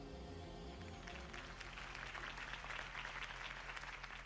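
Video-game crowd applauding after Harvey Dent's campaign speech, a sustained wash of clapping rising after the first second over a low musical drone, moderately distant.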